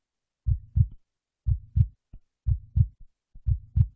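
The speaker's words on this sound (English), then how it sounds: "Let your hand tap the rhythm of a heartbeat on your chest." Hands tap a heartbeat rhythm on chests during a church worship service, a steady lub-dub pattern of soft paired thumps repeated four times with short pauses, close and alone.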